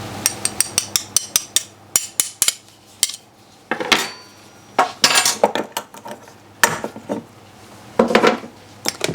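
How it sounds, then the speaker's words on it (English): Dry muffin ingredients, including salt and cinnamon, being stirred together in a bowl for gluten-free chocolate chip muffins: a rapid run of sharp utensil clinks against the bowl, then scraping, swishing strokes broken by pauses, close and alone without speech. "we're going to stir our dry ingredients together"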